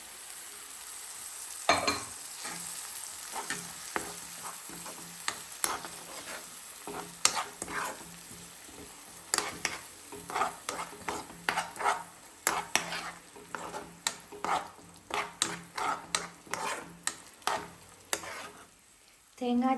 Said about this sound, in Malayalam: തേങ്ങ, ജീരകം, വെളുത്തുള്ളി ഇട്ട് അരപ്പും കൂടെ ചേർത്ത് കൊടുത്ത് അരപ്പൊന്ന് വെന്തോട്ടെ കേട്ടോ